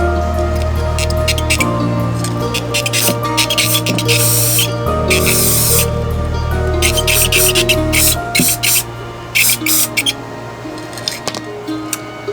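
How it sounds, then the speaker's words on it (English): Bursts of aerosol clear coat spray hiss on and off in short blasts from a spray can onto a handmade doll, over a steady low background hum, fairly close. "I'm going to spray a little bit of clear coat just to kind of seal it a little bit."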